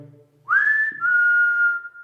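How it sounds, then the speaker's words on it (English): A person whistles alone, one rising note that holds, then a second long steady tone, clear and close. "The old vet whistle"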